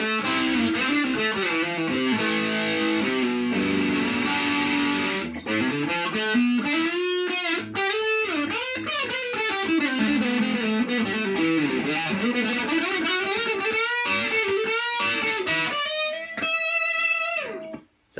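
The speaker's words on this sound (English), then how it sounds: "This is the bridge pickup, and I'm just going to use mild distortion with this." An Ibanez EX series electric guitar on its bridge pickup plays a melodic lead with sliding, bending notes through mild distortion, sustained and fairly loud, fading out at the end.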